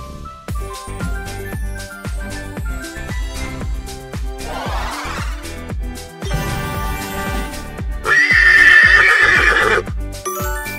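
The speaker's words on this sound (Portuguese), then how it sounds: "É um cavalo." A horse clip-clops in a steady rhythm set against playful music, then whinnies loudly in a drawn-out, wavering call near the end.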